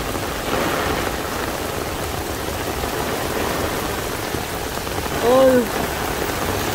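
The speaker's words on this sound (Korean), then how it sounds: "비가 너무 많이 와." A heavy rain downpour in Gwangju in late June 2023 pours down as a dense, steady hiss of rain on surfaces. It stays loud and even throughout, with a brief voice heard near the end.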